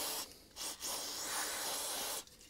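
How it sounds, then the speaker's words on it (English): Carburetor spray hisses loudly from an aerosol can while cleaning a lawn mower carburetor, in bursts with short pauses between them. "A bit of carby spray and a little tiny nylon brush I find helps."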